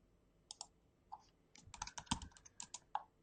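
Quick bursts of computer keyboard typing while a logo is traced in Illustrator, with sharp clicky keystrokes in uneven clusters, sparse at first and then denser near the middle, close and fairly quiet.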